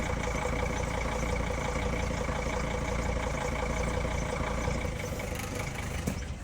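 A 2000–2006 Sprinter van engine idles steadily and close by with a broadband mechanical drone, then near the end the running note breaks off as it shuts down.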